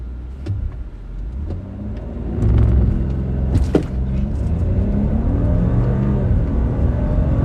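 An Audi Q8 SUV launching in a 0-60 mph run through desert, the engine surging to a strong roar after a short idle and holding a loud, close rumble as it accelerates with no one talking.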